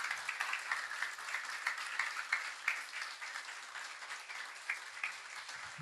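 A church congregation claps for the Lord during a service, dense sustained applause rolling on steadily for several seconds with no talking.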